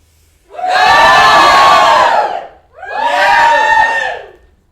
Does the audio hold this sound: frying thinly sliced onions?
no